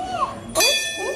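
A metal bell in a Hindu temple rings once, a bright clang that rings on and slowly fades, following a brief stretch of talk.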